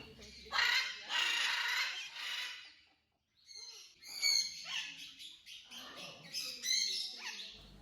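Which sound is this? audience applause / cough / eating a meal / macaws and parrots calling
macaws and parrots calling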